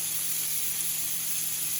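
Shrimp sizzle steadily in a hot pan, a constant bright frying hiss at close range with no talk over it.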